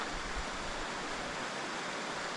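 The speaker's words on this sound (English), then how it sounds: "I brought the old waterfall back that" A waterfall pours in a steady, dense rush of white noise, even and unbroken, heard alone at a moderate distance.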